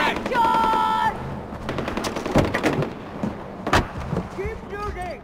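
Gunfire in Far Cry 4 during a gate assault: repeated sharp shots and bursts across the battle, mixed with shouting voices and game effects, fairly loud throughout.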